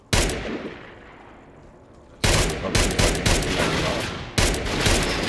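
A .45 machine pistol, the Enfield MP-45, firing in Fallout 4: a burst, a decaying echo, then rapid automatic fire and another burst, loud and close with no talk.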